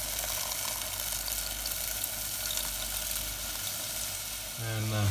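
Frying sizzle from a pan of softened tomato masala for channa masala, steady and close, ending with a louder hiss and bubbling as a little water is added.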